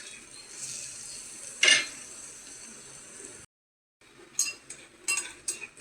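Garlic and turmeric sautéing in a pan, with a spoon scraping and clinking against the metal, a sharp clatter partway through, a brief gap, then several quick taps and stirs over a soft sizzle.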